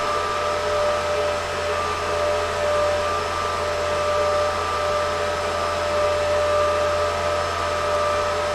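A steady, loud whirring drone of cooling fans on a Goldshell KD5 crypto mining machine, heard from about two feet away, with a constant high whine, unchanging throughout, with no voices.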